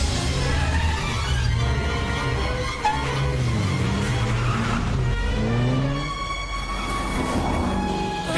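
An auto-rickshaw engine roars and strains at speed during a movie chase, with tires screeching in skids and rising, sliding whines, loud and continuous without talk.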